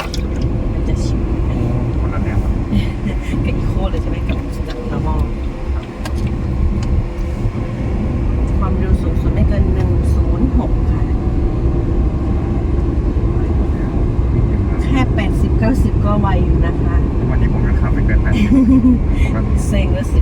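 A Wuling Air EV electric car driving in sport mode, heard from inside as a steady loud road and motor drone with tire rumble, while someone talks over it.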